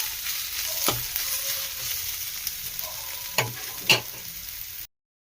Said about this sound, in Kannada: ಶುಂಠಿ ಬೆಳ್ಳುಳ್ಳಿ ಪೇಸ್ಟು ಹಸಿ ವಾಸನೆ ಹೋಗೋ ತನಕ ಸ್ವಲ್ಪ ಆಡಿಸ್ಕೊಳ್ಳಿ.